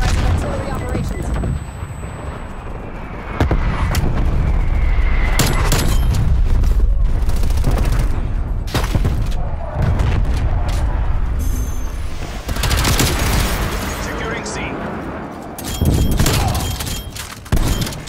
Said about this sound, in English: Powers authorizing artillery operations.